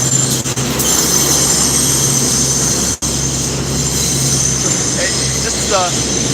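A train rolls past up close and loud, a steady rumbling drone with a brief dropout midway and a few squealing wheel tones toward the end.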